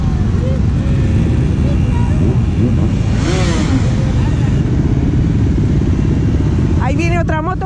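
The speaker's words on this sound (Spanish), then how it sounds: "Ahí viene otra moto con tres ruedas." Motorcycles, among them three-wheeled bikes and Vespas, rumble past in a loud, continuous parade of engines and revving at the Pingüinos 2019 rally in Valladolid, while someone commentates over the din.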